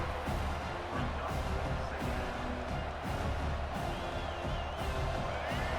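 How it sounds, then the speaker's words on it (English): Stadium crowd noise in EA Sports College Football 26 as fans roar to push the defense toward a red zone stop, a dense, steady far-off wash of cheering and whooping filling the whole stretch, with faint talk mixed in. "And here comes the noise. This crowd is trying to inspire this defense to make a big red zone stop."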